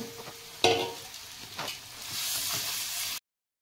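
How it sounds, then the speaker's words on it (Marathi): Boiled potatoes are stirred into a frying masala mixture in a pan for vada pav, with a sharp clack of the spoon early on, then scraping strokes over a rising, steady sizzle that cuts off abruptly, with no speech. "मग आता हे बटाटे घालून घेते मी आणि व्यवस्थित चांगलं हलवून घ्यायचं, एकजीव होईस तोपर्यंत"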